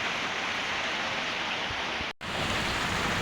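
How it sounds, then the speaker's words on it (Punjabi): Heavy rain pours down in a dense, even hiss, loud and close, with a momentary drop-out near the end. "ਹੁਣ ਮੀਂਹ ਆ ਗਿਆ"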